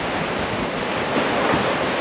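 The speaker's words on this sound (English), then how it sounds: "Look at the waves coming." Ocean waves surging and breaking against rocks along an eroding coastline with sea caves, a continuous loud wash of surf with wind noise buffeting the microphone throughout.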